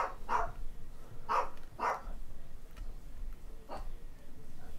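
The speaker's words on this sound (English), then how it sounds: "Sorry about the barking." A dog barks several times in short, separated bursts, moderately distant, with quiet gaps between barks.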